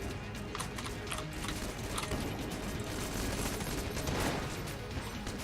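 Dense gunfire from the video game Enter the Gungeon during a boss fight against a tank, the Treadnought: a continuous, loud barrage of rapid shots layered with other game effects, without pause or speech.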